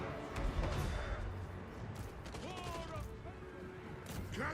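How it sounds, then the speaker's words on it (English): Dwarf artillery pounding Night Runners in a Total War battle, a dense barrage of dull booms and thuds layered with clattering battle noise, moderately loud throughout with someone talking over it. "let's hit their Night Runners with the artillery"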